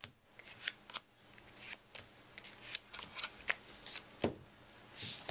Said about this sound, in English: start dealing.